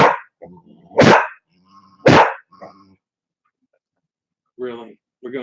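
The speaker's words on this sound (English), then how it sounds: "Dogs are hungry. Man, they're playing." Dogs, including a playful pit bull and an older dog, bark in a few loud separate bursts with short gaps, mixed with a man's speech.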